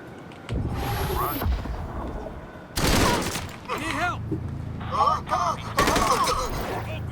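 Gunfire in the video game Gemini Heroes Reborn comes as several loud bursts of rapid shots and blasts, separated by brief pauses, with someone talking between and over them.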